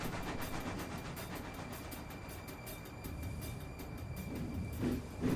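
A train pulling into a station rumbles and clatters steadily along the rails, a low continuous roar with faint rhythmic clicks and a brief squeal near the end.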